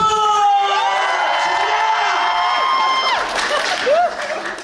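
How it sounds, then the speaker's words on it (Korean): A theater audience cheers, shouts and applauds loudly during a stage greeting after a performance, with bright, excited voices ringing over a dense, steady wash of clapping that fades slightly near the end. "박수!"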